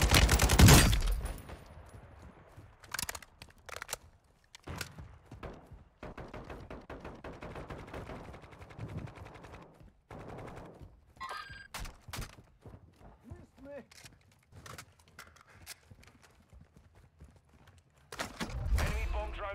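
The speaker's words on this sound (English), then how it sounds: "Enemy sniper here. Taking effective fire." Gunfire from an enemy sniper in the Warzone 2.0 battle royale video game, heard as scattered sharp shots and bursts at varying distances amid game sounds, with loud blasts at the start and end.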